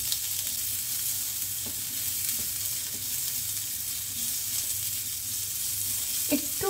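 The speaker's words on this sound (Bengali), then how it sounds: "ডালটা দিয়ে দিচ্ছি, যে ডালটা একটু ভাজা হোক," Dal frying in hot oil in a pan along with onion, curry leaves and mustard seeds, a continuous close sizzle with occasional light stirring clicks and scrapes.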